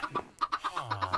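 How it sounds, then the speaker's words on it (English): Chickens on a Minecraft farm give a quick series of short, close clucks in an irregular rhythm, clear and alone with no talk. "Looks like a chicken farm."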